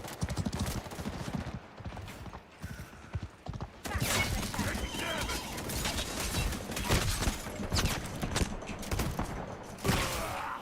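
Video game gunfire as a team opens fire, with bursts of rattling shots and impacts that start loud after a quieter stretch, amid clattering effects and voices talking over the action.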